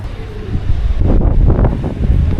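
Strong wind on a mountain summit buffets the microphone in loud, gusting low roars that swell after a quieter start.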